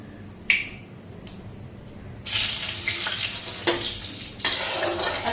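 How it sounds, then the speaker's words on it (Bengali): Cumin seeds and dried red chillies hit hot oil for tempering, a sudden loud spattering sizzle that settles into steady crackling frying, close by with a few sharp clinks of utensils. "জিরা দিয়া দিলাম আর শুকনো লঙ্কা ফোড়ন দেব"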